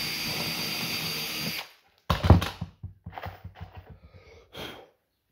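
A power drill pre-drills a hole in wood for a screw with a steady close whine that cuts off abruptly, followed by a few quieter handling knocks and breaths.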